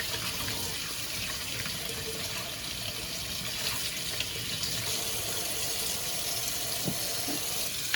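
Tap water runs steadily into a sink while parts of a pet water fountain are rinsed, a constant near splashing rush with small knocks of plastic under the flow.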